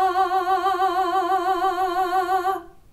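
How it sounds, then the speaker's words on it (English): Single sustained sung note with steady, rapid vibrato wavering evenly throughout, clear and close, for about two and a half seconds before cutting off. "And vibrato sounds like this."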